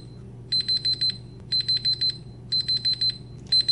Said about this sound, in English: I'm going to do just 1 second so you can hear what the beep sounds like